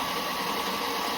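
A Tuttio ICT e-bike motor runs on throttle, giving a steady, brief whirring hiss with a constant midrange whine and no pauses.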